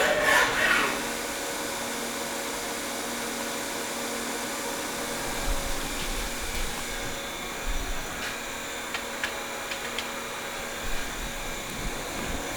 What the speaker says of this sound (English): You can see lot 296 is a nice running mill.